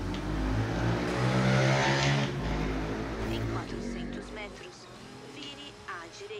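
A Nissan Skyline GTR turbo engine revs in Forza Horizon on a wet road, a loud droning engine note that rises and then fades, heard under someone talking.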